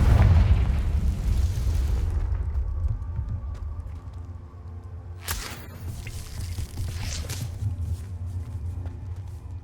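In the video game Hogwarts Legacy, a Confringo spell lands as a deep, booming explosion. The blast hits loudly at the start and rumbles down over a couple of seconds. A sharper burst and crackle follows midway.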